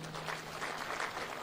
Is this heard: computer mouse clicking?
no